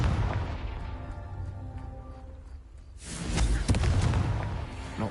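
A Confringo blasting spell explodes in Hogwarts Legacy, a sudden loud burst at mid-clip that gives way to a crackling, rumbling blast over low background game ambience.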